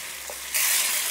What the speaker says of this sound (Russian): Лук я обжариваю примерно в течение 10 минут, чтобы он начал карамелизироваться.